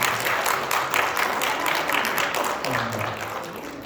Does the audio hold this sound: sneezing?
no